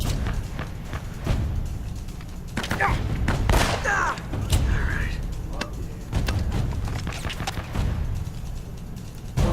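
Gunfire from the action game Uncharted: Drake's Fortune, with several sharp shots and thuds of a firefight in a corridor, loud and close, mixed with game sounds.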